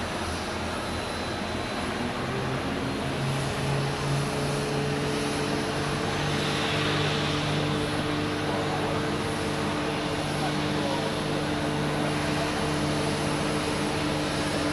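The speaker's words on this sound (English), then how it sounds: "let's take a look at Top Air Portugal, getting ready for departure too" A TAP Air Portugal airliner readying for departure to Lisbon at Zurich Airport, its engines holding a steady idle drone with tonal whines, under faint background talk.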